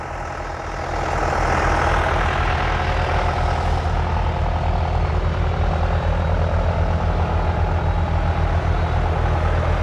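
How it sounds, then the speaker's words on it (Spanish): A heavy tractor engine at a watermelon harvest revs up after a quiet start and then runs loudly and steadily, a deep continuous rumble with no voices. "Es un tractor potente."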